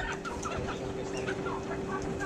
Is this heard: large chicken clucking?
yes